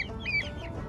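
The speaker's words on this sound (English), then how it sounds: "We will now introduce you to the 5 chickens that we decided to keep." A brief, soft cluck from a backyard chicken nearby in the city, a single short call over quiet background.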